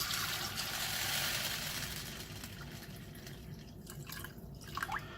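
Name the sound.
pouring water to soak chicken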